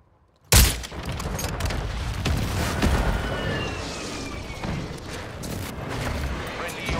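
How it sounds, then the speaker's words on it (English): Incoming mortar strike in Call of Duty: Modern Warfare II: one sharp, loud blast lands abruptly, then a sustained rumbling wash of further explosions and battlefield noise rolls on without letting up. "Hostile mortar strike incoming."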